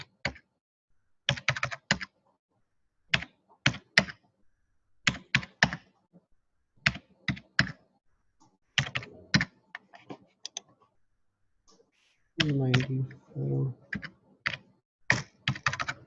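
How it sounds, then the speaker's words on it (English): Quick bursts of computer keyboard typing, crisp and close, separated by short pauses, with one longer flurry of keystrokes toward the end. "Please make sure I'm typing the right thing, okay?"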